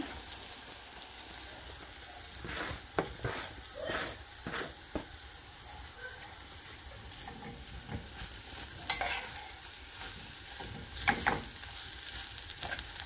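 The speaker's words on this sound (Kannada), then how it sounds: "ಇವಾಗ ಬಾಳೆ ತುರಿದಿರೋದು ಹಾಕ್ಕೊತಾ ಇದ್ದೀನಿ." Grated raw banana stirring and frying in a pan with curry leaves, a steady crackling sizzle broken by scraping strokes of the spoon, close and continuous with no talking.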